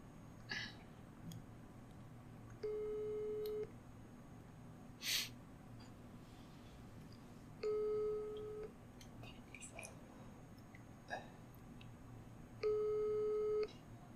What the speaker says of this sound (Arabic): راح اتصل بجيفارة، وان شاء الله يا رب يرد علي